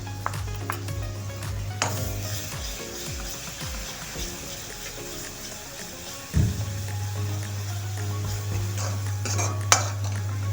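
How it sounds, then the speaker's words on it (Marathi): Chili thecha being sautéed in a pan for palak paneer, with repeated scraping and stirring strokes of a spatula against the pan over a low steady hum, plus a few sharper clinks. "पाच मिनिट याला परतून घेणार आहोत."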